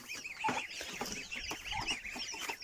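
A mixed farmyard flock of geese, ducks, turkeys and chickens clucks and squawks continuously while being fed, many overlapping bird calls at moderate distance with no talking.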